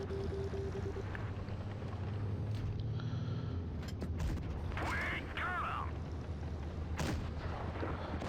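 Tank gun shots ring out in World of Tanks Blitz, a German Tiger II heavy tank trading fire in a tier 8 battle, with a few sharp booms over a steady mechanical engine rumble and scattered clanks, loud throughout.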